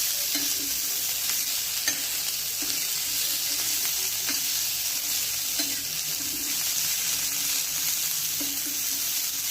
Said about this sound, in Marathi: फ्लावर असं छान परतून घ्यायचं आहे